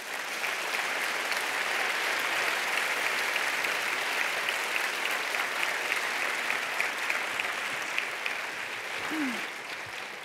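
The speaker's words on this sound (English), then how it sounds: "another round of applause for Ken, just because he's fabulous." Sustained applause from an audience at a parent education event, a dense steady wash of clapping lasting throughout, fading slightly at the end.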